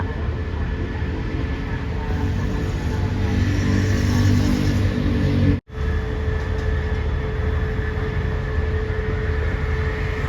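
A train pulling slowly into Samsen railway station in Bangkok, a steady low rumble and rolling noise filling the scene, broken by one abrupt momentary dropout before the continuous drone resumes.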